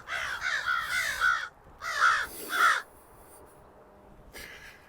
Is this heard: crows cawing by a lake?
yes